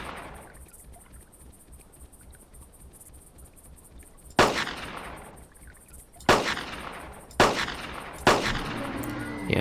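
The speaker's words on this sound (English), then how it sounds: "it does take a few shots to down a Stego, but still pretty reliable" Loud single gunshots from a hunting weapon in the video game Carnivores Genesis, four sharp cracks spaced about two seconds apart after a quiet stretch of ambient background.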